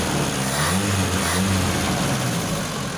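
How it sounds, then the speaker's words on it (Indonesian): A Honda Civic Wonder engine fitted with a Kijang carburetor, heard close up as a loud, continuous rough drone with the revs rising and falling briefly under the throttle. "Kita coba gas-gas."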